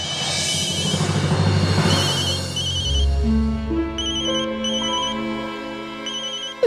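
A mobile phone left behind rings with a bright electronic ringtone melody, a steady repeating tune playing loud and close with no talk over it.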